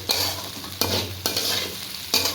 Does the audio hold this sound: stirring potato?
yes